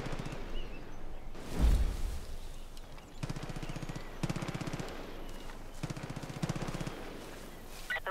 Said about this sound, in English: there's a shooting range here. I forgot about that. That's why I'm hearing gunfire.